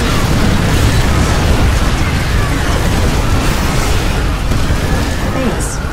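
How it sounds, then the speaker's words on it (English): A Nidus worm emerges in StarCraft II: Wings of Liberty, a dense, continuous loud rumble with a booming, explosive quality filling the whole stretch. "Warning. Seismic disturbance detected."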